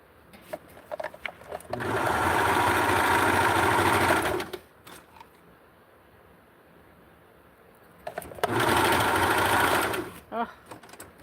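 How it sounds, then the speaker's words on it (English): Serger sewing machine running in two loud bursts, stitching along the sides of fabric for a Barbie Vogue 7291 doll garment, with quieter handling noises and a pause between runs. "So I'm going to put this through the serger right now"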